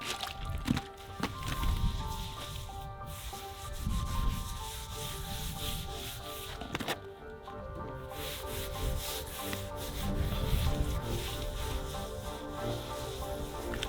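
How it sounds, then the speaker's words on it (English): A sponge scrubs a stone floor in a house under construction, giving steady rhythmic rubbing strokes with occasional wet sloshing, close and moderately quiet, with no voices. "I scrubbed the whole thing with a sponge."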